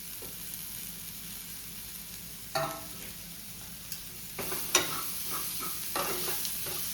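Egg bhurji with chili and coriander fries in a pan while being stirred continuously. A low, steady sizzle carries repeated close scrapes and clinks from a spatula that grow busier toward the end, with no voices.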